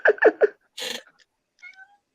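A cat gives three quick meows in a row, then a longer harsher cry, followed by a faint thin squeak, each close and clear against silence.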